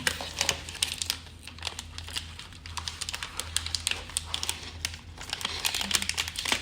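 Plastic packaging being torn open in a Thai shop, a busy run of crinkling, ripping and crunching close up, with irregular sharp bursts over a steady low hum and no talking.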